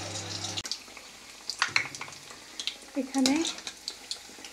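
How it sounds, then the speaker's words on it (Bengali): Pumpkin flowers frying in hot oil in a pan, a steady soft sizzle with crackles and occasional stirring clinks, while a voice speaks briefly over it. "তিনটা ফুল একসাথে ভেজে নিচ্ছি"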